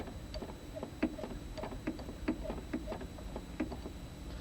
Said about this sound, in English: now we need to pump air into the burner chamber